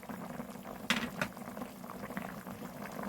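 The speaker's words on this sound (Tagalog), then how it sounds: "So, pakuluin pa natin ng kaunti." A pot of vegetarian kimchi jjigae with garlic and onion keeps boiling, giving a steady, dense bubbling with a couple of brighter pops and clinks near the start.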